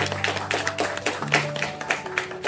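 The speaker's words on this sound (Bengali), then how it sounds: "হাততালি হোক" An audience applauding at a cultural felicitation event in a Kolkata hall, a short burst of scattered, moderately loud clapping with a faint tonal hum behind it.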